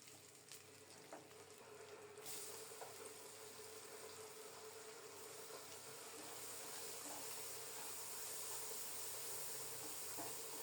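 Chopped onion tipped into hot oil with fried dried fish (churi shutki) in a home kitchen, giving a steady close sizzle and crackle that swells slightly and continues throughout.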